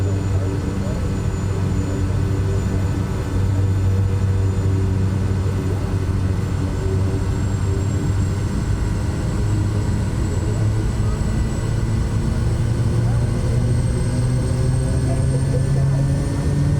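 An aircraft engine at takeoff power in the Microsoft Flight Simulator 2024 video game makes a loud, continuous droning roar with a steady low hum whose pitch slowly rises, and a voice talks over it.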